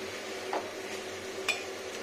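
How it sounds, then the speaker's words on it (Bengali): Salt is stirred into arum and mixed vegetables in a pan, with two faint, brief spoon scrapes over a low, steady background hum. "এবার লবণটাকে মিক্স আপ করে দিই"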